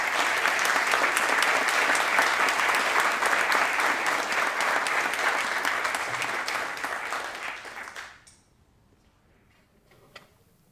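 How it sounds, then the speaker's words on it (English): An audience at a lecture on the future of electronics gives a sustained, loud round of applause for about eight seconds, then it tapers off quickly into near silence with a stray faint clap. "Can we just have another round of applause for this?"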